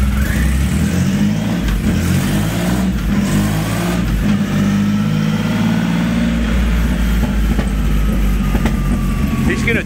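A car engine revs hard on a dyno during tuning, a loud, close, sustained roar rising and holding with faint popping, while people talk over it.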